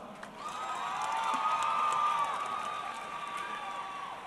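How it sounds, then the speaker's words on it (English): A crowd at a women's MMA event cheers and claps, sounding distant and moderately loud, with a sustained whoop-like tone swelling in the middle before easing off. "let's give both ladies a big round of applause."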